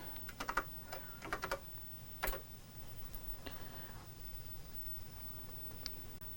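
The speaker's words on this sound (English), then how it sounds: "I want you to type C-load right now" Keys tapped on a TRS-80 computer keyboard in a classroom network setting, a few quick bursts of clicks followed by scattered single taps, moderately near and fairly quiet over a steady room hum.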